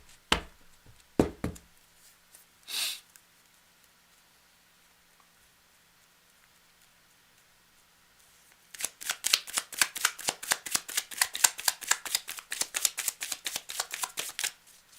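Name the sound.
tarot cards being put back and shuffled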